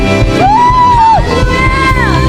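A church congregation at a Sunday service at GKIN Agape Ngunut shouts and whoops together, one loud rising cry standing out over the dense, sustained roar of voices.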